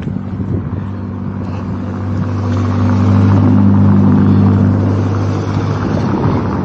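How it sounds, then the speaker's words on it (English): Cars rolling past on a ship dock along the Pontian Johor coastline, a steady low engine rumble that swells and fades as vehicles pass nearby, with wind buffeting the microphone. "We have cars, so let them through first"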